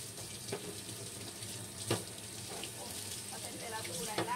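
Hot water runs steadily from a kitchen tap into a sink, a continuous close splashing hiss with a few brief clinks of dishes.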